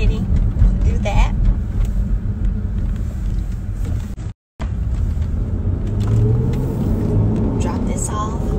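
Steady low road rumble from inside a car driving into the city, a continuous engine and tire drone with one brief dropout midway, while a person talks over it.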